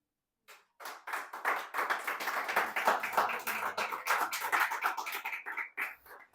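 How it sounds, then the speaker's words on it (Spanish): Church congregation clapping at a Sunday service, a dense run of many hands starting abruptly, swelling and holding steady before thinning out near the end. "yo quiero que le dé un gran aplauso al Señor."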